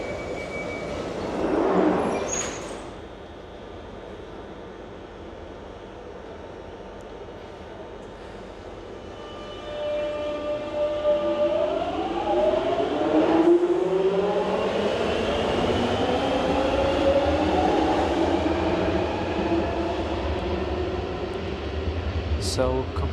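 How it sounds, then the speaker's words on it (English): A London Underground Jubilee line tube train at a station, a low rumble building into a rising electric whine as it moves off, steady and fairly near, with voices talking over it. "we're getting the tube to Bond Street in the Jubilee line"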